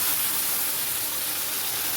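Spice paste hits hot oil in a pan, giving a steady, close, bright sizzling hiss that holds evenly throughout without any voices.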